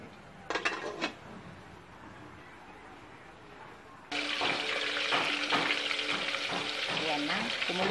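Tilapia head soup boiling in a covered pot, a steady bubbling hiss that rises suddenly partway through after a few brief clinks, then continues loud and close with faint knocks.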